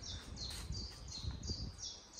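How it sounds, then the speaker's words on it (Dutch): Small birds chirping in a garden on a quiet morning, faint, distant repeated tweets at a fairly even pace over soft background rustle. "Hoor nou die vogeltjes."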